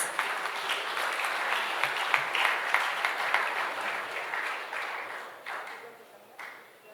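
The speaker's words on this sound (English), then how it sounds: "can we have a huge round of applause?" A banquet hall audience applauds, steady dense clapping from many hands that slowly thins and fades toward the end, with a few sharper individual claps standing out.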